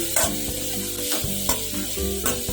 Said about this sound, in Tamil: நல்லா வதக்கிக்கலாம். இதனோட ஒரு சுளப்புளி போட்டுக்கலாம்.